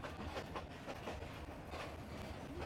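A cargo train on the Kalatazi line in Myanmar runs on its rails with a steady, faint clickety-clack of wheels and rumble, heard continuously without talking.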